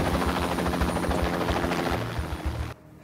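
A helicopter arrives in the Indian action film Commando 3, its rotor thumping in a fast, steady low pulse under a loud roar that cuts off abruptly near the end.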